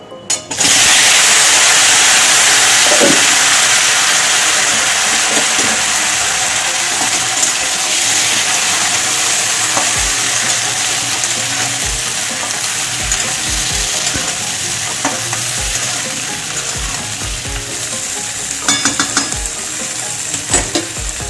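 Chopped snake gourd and stems hit a hot pan with a loud sizzle that starts at once, then a dense continuous frying hiss with occasional clinks and scrapes of stirring throughout.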